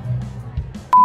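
Phone keypad beeps: a short electronic tone sounds near the end, loud and close after a quieter low murmur.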